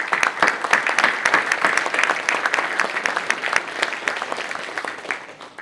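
An audience at a police promotion and retirement ceremony applauds family members of officers, a dense, sustained round of clapping with individual sharp claps standing out, fairly loud and tapering slightly toward the end.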